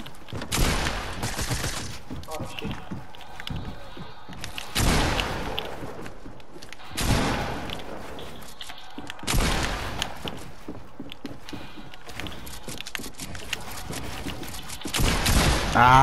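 Bursts of gunfire from the video game Fortnite, loud close volleys repeating every few seconds with quieter rattling shots between them.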